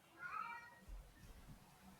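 A short, faint cat meow near the start, followed by quiet low rumbling in a calm room.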